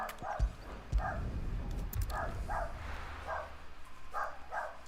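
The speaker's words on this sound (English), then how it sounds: "Sorry for the dogs." Dogs barking in the Final Fantasy XVI video game, a series of short repeated barks at mid distance, steady over a continuous game soundscape with low thumps.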